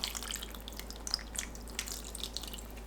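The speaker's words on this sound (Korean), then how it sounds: "제일 위에 남은 양념 모두 부어주세요." Leftover seasoning poured over butterbur shoots in a pot: a soft, faint trickle with scattered light drips and splashes, steady for a few seconds with no voices.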